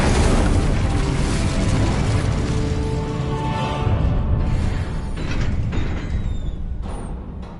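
A Confringo blasting spell explodes in Hogwarts Legacy, a long, loud booming roar that fills the space and slowly rumbles down, with crackling debris and a few sharp pops as it fades.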